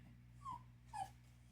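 A pet dog gives two short, high whimpers about half a second apart, close by and soft, over a low steady hum.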